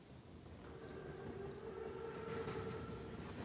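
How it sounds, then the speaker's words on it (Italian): An armored train in Call of Duty WWII rumbles steadily with a sustained whistle-like tone over it. The sound is continuous and moderately loud throughout, with no talking. "Il treno è puntuale. È un treno così grande. È così corazzato."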